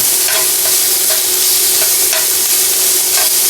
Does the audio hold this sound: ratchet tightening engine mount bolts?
no